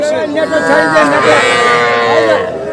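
Young heifer calves at the Ambari cattle market in Dinajpur give a loud, sustained, close moo lasting a few seconds, with market voices in the background.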